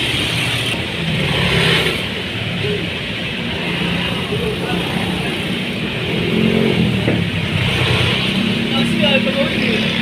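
A Yamaha NMAX scooter with a fault that makes it stall and lag runs close by, its engine droning steadily with mild rises and dips in pitch, while people talk over it.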